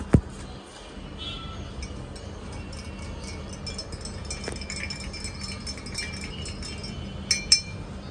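A big spoon stirs in a glass, giving scattered light metallic clinks and taps over a quiet background, a couple of sharper strikes near the end.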